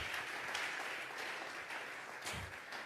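Congregation in a church giving a round of applause, a soft, steady patter of many hands clapping at a distance for a few seconds with no talk.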